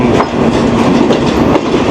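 A Green Line railcar train passes on the tracks near Wazirabad Junction on the Rawalpindi route, a loud, steady rumble with rhythmic clickety-clack of wheels over rail joints.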